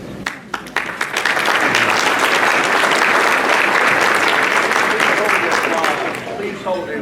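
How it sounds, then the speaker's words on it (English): Awards ceremony audience breaking into loud, sustained applause that swells after a few scattered opening claps, stays dense and even, then eases slightly toward the end. "Please hold the applause."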